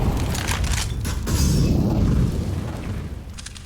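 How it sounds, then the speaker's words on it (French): A grenade goes off in Counter-Strike: Global Offensive as a loud, sustained booming blast with a rumbling tail that swells and slowly fades over a few seconds. "Grenade out."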